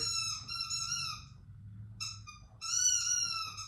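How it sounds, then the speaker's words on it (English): A green or orange squeaky pig toy being squeaked by a dog, giving repeated high, harmonic squeals in two bursts with a pause between, over a low background rumble. "squeaking the green or orange squeaky pig toy"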